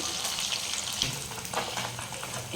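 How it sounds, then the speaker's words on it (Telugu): Bone-in fish pieces fry in hot oil until golden, a dense close sizzle with crackles and a light stirring clatter near the middle. "ఇవన్నీ గోల్డెన్ కలర్ వచ్చే వరకు వేయించుకోవాలండి"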